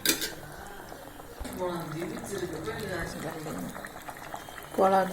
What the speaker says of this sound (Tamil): நல்லா கொதிச்சோம்னா கோழிக்கறி சிக்கன் குழம்பு ரெடிங்க.